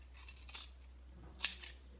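Scissors snip once through a fabric strip for a rag rug, a single brief close cut in a quiet room with faint handling rustle before it.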